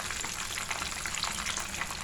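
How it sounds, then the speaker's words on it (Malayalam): KFC-style chicken fries in hot oil over a raised flame, giving a steady, dense sizzle and crackle with no talk. "ഫ്ലെയിം ഒന്ന് കൂട്ടി കൊടുത്തിട്ട് 1 മിനിറ്റോളം ഒന്ന് വറുത്തെടുത്താൽ മതി."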